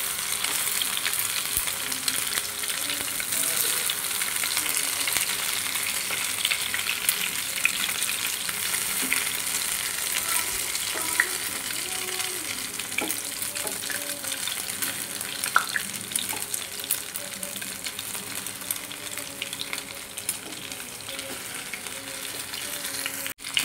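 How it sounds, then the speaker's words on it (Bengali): Pointed gourd (potol) slices frying in a pan, a steady hiss and crackle of oil sizzling throughout, with occasional stirring clicks and no talk. "এখানে আমি পটলটাকে এপিট ওপিট ভালো করে ভেজে নেব,"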